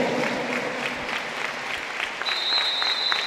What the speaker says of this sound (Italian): E con gli applausi del pubblico